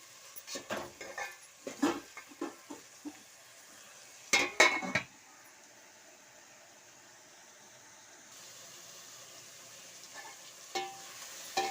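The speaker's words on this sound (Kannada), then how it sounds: "ಒಂದ್ಸಲ ತಿರುಗಿಸ್ಕೊಡಿ ಈ ರೀತಿ ಟೊಮೆಟೊ ಎಲ್ಲ ಚೆನ್ನಾಗಿ ಫ್ರೈ ಆಗಬೇಕು" Tomatoes with ginger-garlic paste frying in a pan for tomato rice bath, a spoon clinking and scraping in a cluster of strokes early on, then a quieter steady sizzle with occasional stirs.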